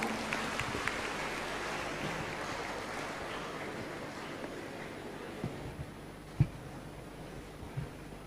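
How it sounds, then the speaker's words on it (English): Faint, distant applause from a graduation-ceremony audience in a large hall at a pharmacy and management college, a steady patter of many hands with a few sharper claps standing out. "Let's give him a warm round of applause."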